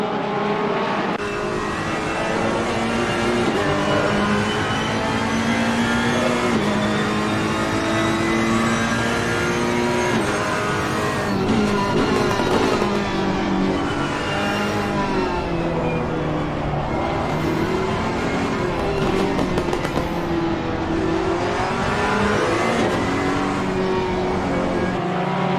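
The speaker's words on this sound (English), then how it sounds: "So Kraus is going to come under pressure between Ilmaz here and the 79 Ferrari." Several race car engines, including a Ferrari, drone and rev continuously in a sim racing video game, with shifting pitches as cars accelerate and pass, loud and sustained throughout.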